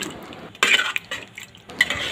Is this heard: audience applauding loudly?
no